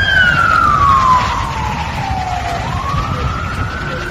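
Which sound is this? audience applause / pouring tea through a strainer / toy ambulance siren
toy ambulance siren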